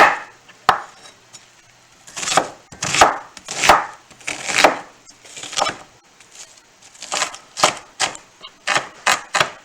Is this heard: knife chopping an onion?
yes